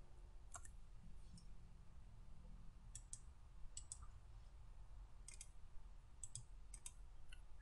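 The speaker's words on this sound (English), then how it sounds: "right mouse click" Faint, sparse clicks sound in small clusters against a quiet background hum, like a computer mouse being clicked every second or so.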